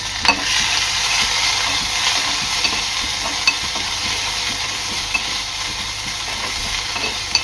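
A crushed ginger and green chilli paste fries in hot oil with curry leaves for fasting batata vada, giving a constant close sizzle with occasional faint spatula taps and no talking.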